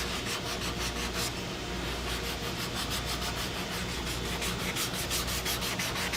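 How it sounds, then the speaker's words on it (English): Glycerin saddle soap is rubbed hard into a western leather saddle to burnish it, producing a loud, continuous rhythmic rubbing with rapid back-and-forth strokes, close up and with no speech. "I'm getting ready to really burnish it here in a second. I'm going to use some of Duff's saddle soap."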